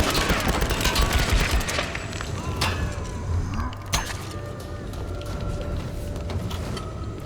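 Bursts of gunfire in the video game Tomb Raider against a giant temple guardian, loud rapid shots at first that thin into scattered cracks, with mechanical clatter and little talk.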